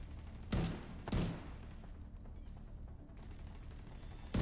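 Two loud gunshots from The Division 2 video game fire in quick succession near the start, followed by quieter gameplay ambience and a final sharp shot at the very end.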